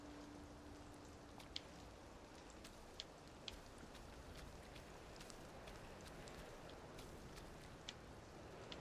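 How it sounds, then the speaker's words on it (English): Steady rain falls in the video game We Happy Few, a soft, even hiss of drops with occasional sharper patters, faint and continuous with no voices. "Maybe because it's raining."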